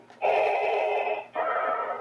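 Two long, hissing mechanical breaths from a toy Star Wars helmet, the first longer and the second cut short, like an electronic mask breathing effect.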